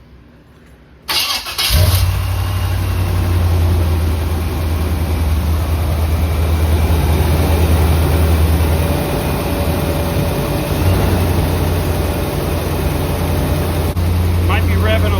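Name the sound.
car V8 engine starting and idling roughly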